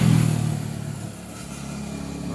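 A repaired Honda Beat Fi V2 scooter engine running after a check-engine fault, a steady close idle hum that dips slightly from an initial louder rev.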